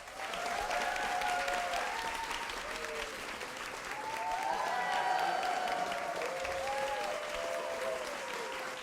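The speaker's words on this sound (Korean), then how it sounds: "큰별쌤으로 더욱 유명한 최태성 선생님을 큰 박수로 환영해 주시기 바랍니다" A lecture-show audience claps loudly and steadily throughout, welcoming a history lecturer onstage, a dense sustained applause with faint musical tones drifting underneath.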